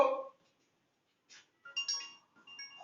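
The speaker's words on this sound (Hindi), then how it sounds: "हाँ किसी का वॉइस मैसेज आ गया" A phone chimes with an incoming voice message alert, a short bright tonal ping followed after a pause by a few more brief electronic tones, fairly close and alone without talk.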